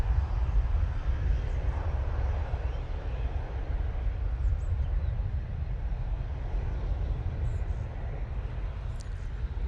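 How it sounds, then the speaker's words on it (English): An EasyJet airliner lands at Manchester Airport, heard as a broad, steady roar of jet engines and rushing air at a distance that holds evenly throughout, with no talk. "Nice landing there from EasyJet"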